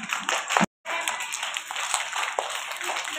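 An audience of families at a prize announcement claps hands, a dense continuous patter of applause with a brief gap, loud and close.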